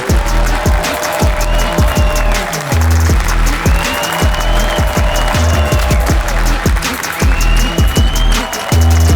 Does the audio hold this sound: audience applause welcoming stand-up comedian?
yes